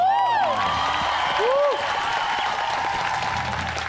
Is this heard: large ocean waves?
no